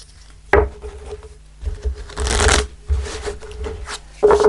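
Tarot cards from an Angel Answer deck being shuffled close up, several brisk riffling bursts separated by short pauses of softer handling.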